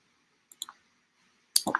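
Sharp, close clicks of a computer mouse on a button, a short pair followed by a quick cluster after a pause, in a quiet room.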